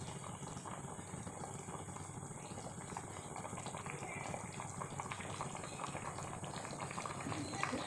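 Soft, steady bubbling of a vegetable curry with lentil fritters simmering in gravy in a pot on a gas stove, a faint continuous simmer with no pauses.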